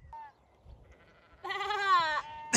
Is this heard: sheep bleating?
yes